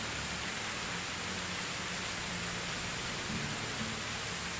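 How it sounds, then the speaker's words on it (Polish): Loud rain falls in the medieval survival game Medieval Dynasty, a steady, dense hiss of downpour that holds evenly for the whole stretch with no other sounds. "Strasznie głośno pada ten deszcz."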